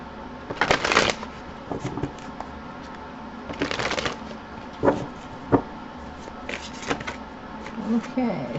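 Mermaid Tarot cards are shuffled by hand close up, in several short riffling bursts separated by quieter pauses.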